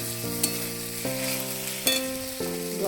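Potatoes and spice paste fry in oil for a fish curry, a close steady sizzle with a few sharp clicks from stirring and a sustained tonal hum underneath.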